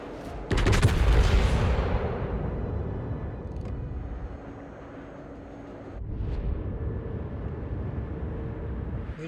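Naval gunfire in the World of Warships video game: a loud opening salvo of heavy booms fades into a rumbling tail, followed by a second, softer burst and lingering low rumble.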